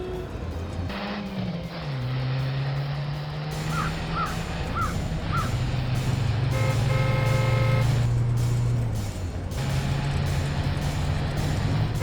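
Car engine droning loudly and continuously in a fast chase, with rising revs and gear shifts, while a crow caws several times in the background.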